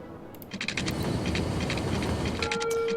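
A freight train in the city-builder Cities: Skylines rumbles past with rhythmic clicking over the rails, and a brief tonal horn-like note sounds near the end.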